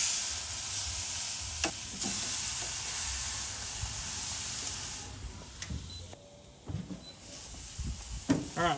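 Steak being reverse-seared on a grill heated to 650 degrees for fajitas, a loud broad hiss of searing that fades partway through, followed by scattered clicks and clatter.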